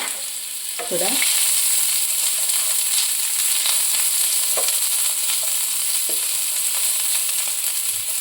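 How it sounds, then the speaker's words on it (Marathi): Onion frying in a pan gives a steady, loud sizzle and hiss throughout, broken by a few scraping stirs and light clinks. "आपण कांदा भाजून घ्या पहिला"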